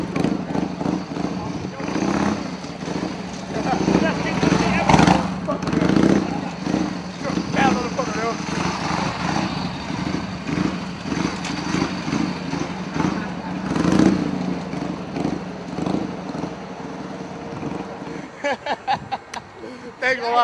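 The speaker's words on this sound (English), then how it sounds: "gotta sit on his bike and he's gonna do wheelies with you on it" A motorcycle doing wheelies and circles with a passenger aboard revs and roars up and down nearby, its engine surging repeatedly under loud, near-constant talk from people close by.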